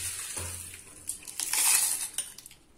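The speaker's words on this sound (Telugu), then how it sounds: "ఇప్పుడైతే దీన్ని మిక్సీ జార్లోకి పెట్టేస్తున్నాను." Dry roasted sambar powder spices are tipped into a steel mixer jar in a home kitchen, giving a short burst of close rattling, clinking and rustling grains that swells midway and then fades, with no talking.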